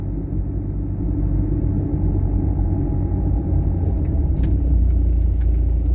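A car drives slowly at about 20 km/h, heard from inside as a steady, loud low rumble of engine and road noise that holds constant throughout, with a couple of faint ticks near the end.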